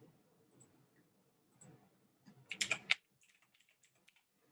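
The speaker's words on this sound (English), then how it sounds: "I think I might just type the whole thing" Typing on a computer keyboard, heard as a quiet scatter of isolated key taps and then a brief, louder burst of rapid keystrokes, with no talk.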